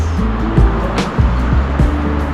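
A bus pulling up at a UK bus stop, with a steady low engine rumble and a few short thumps and rattles as it approaches up close. There is no talk.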